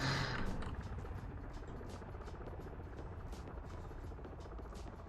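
Steady helicopter rotor thrum and engine drone from a large multiplayer PvP shooter match, continuous and fairly loud with a brief louder burst at the start, no talking.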